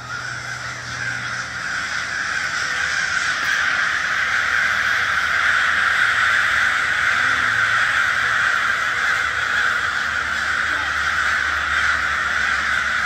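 A large flock of crows caws continuously, many overlapping calls forming a dense, loud, steady chorus throughout with no talking.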